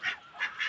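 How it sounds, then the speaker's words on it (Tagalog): A duck gives three quick, nasal quacks in a row, close by and fairly faint, with brief gaps between them. "Ang bibi."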